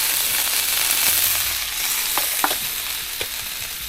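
Fat spitting and sizzling in a pan over a Trangia 25 Duossal alcohol stove with its simmer ring, a steady frying hiss punctuated by several sharp pops and crackles, close by.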